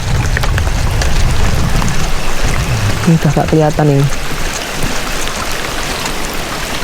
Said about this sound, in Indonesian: Cuacanya baru belum kondusif, masih hujan-hujan plus angin.